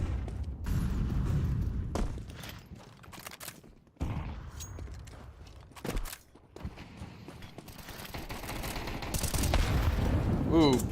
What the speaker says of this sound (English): Ooh, big HE.